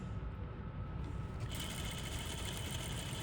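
Sewing machine stitching fabric at a quarter-inch seam toward a corner, a fast continuous mechanical whir with a rapid needle rhythm, close and steady, its tone brightening slightly partway through.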